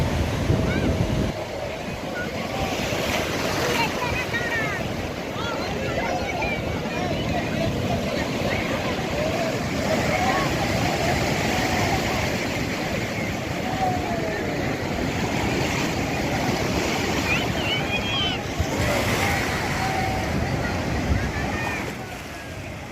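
Rough post-cyclone surf at Puri beach rolls in as a continuous loud wash of crashing waves with heavy wind buffeting the microphone, while people talk and call out faintly over it.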